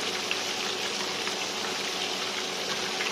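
Korean fried chicken pieces deep-frying in a pot of hot oil, a steady, dense sizzling hiss that holds at an even level throughout, close by with no voices.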